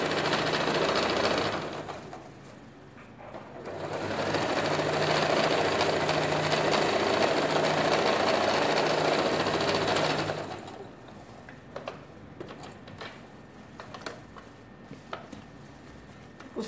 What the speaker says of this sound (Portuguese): Nós vamos unir e fazer a costura aqui, ó.